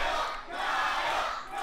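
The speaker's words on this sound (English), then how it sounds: "Crowd getting behind Kyle." A wrestling-event crowd cheers and shouts together in a loud, swelling roar that dips briefly and rises again, spread through a large indoor audience.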